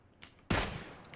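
Gunfire in the battle game PUBG: a single loud, close shot bursts out abruptly and then decays into a sustained crackling echo.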